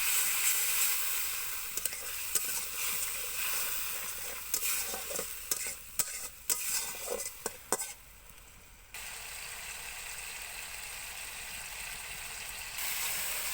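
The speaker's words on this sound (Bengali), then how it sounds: "জল দিয়ে ভালোভাবে মশলা কষিয়ে নিতে হবে।" Spice paste with turmeric and a little water sautéing in a pan for a bitter gourd and eggplant dish, a soft steady sizzle broken by a run of scraping, clacking stirring strokes, then quiet sizzling alone.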